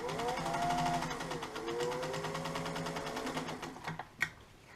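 A restored Singer 201 sewing machine runs a basting stitch, giving a soft, steady rapid whir and tapping hum close by, with a faint rising tonal whine early on before slowing to a stop with a final click.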